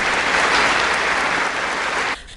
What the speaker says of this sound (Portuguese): E foi aplaudido de pé.